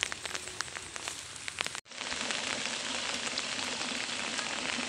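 Steady broadband hiss of rain falling on a farm garden on a hillside, with a continuous wash of drops and pattering close by; a brief break in the sound comes near two seconds before the rain hiss resumes just as strongly.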